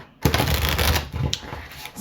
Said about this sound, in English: It's been a mess shuffling your cards